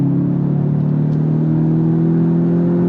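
A 2024 VW Jetta GLI sport sedan engine pulls on throttle with a loud, steady, droning hum that holds for about three seconds, close and continuous with no talking.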